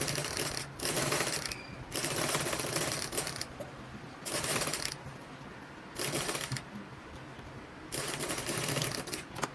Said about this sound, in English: Now I'll be top stitching it, making sure my seam allowance is facing this way, and I'll run a stitch down.